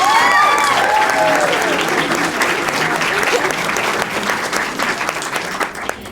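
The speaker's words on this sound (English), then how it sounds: "she deserves another round of applause" A school crowd applauds an athlete at a letter of intent signing, steady dense clapping throughout with cheering voices early on, tapering slightly near the end.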